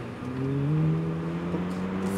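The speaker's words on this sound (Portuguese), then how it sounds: "já vi miúdos fazer mais barulho que esse carro" Car engine revving steadily, with a droning, rising tone that holds close and moderately loud for about two seconds, with no talk.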